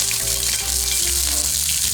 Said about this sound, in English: I'm just gonna let it sizzle for just a second